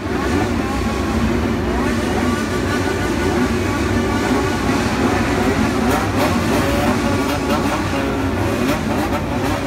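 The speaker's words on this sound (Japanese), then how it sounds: "暴走族の音。" Motorcycles of a Japanese bosozoku biker gang rev their engines in a continuous, loud, dense roar that swells and falls throughout, with several machines blending together and no clear gaps.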